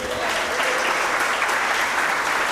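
Steady, dense applause fills a church hall as a congregation at a conference service claps continuously, with a few faint shouts mixed into the even roar.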